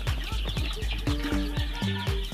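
A flurry of short clucks and clicks from 14-day-old Dominant CZ Artisan Egger chickens, close and busy, repeating in quick irregular bursts with a few higher calls.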